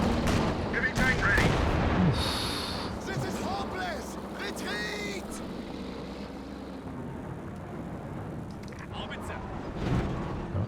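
Heavy artillery shells crash down with booming impacts in a Company of Heroes 2 multiplayer battle, mixed with gunfire and the drone of aircraft. A commentator talks throughout.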